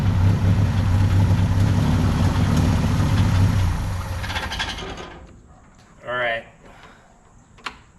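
A 1965 Datsun 320 pickup truck engine idles roughly and unevenly, loud and close at first, then cuts off into quiet, followed by a short spoken phrase and a faint click.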